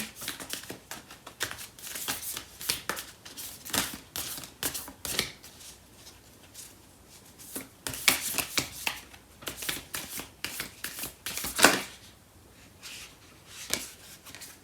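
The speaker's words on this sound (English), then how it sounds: "I'm going to pull out a card for this person in this connection" A tarot deck is handled while a card is drawn, with a long run of crisp, rapid shuffling riffles and card flicks, close up and without talk, in uneven bursts with brief pauses between.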